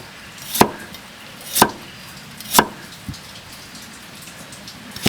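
A knife dices washed onion, cucumber and carrot on a board in three sharp, spaced chops and a softer fourth, close by against a quiet room.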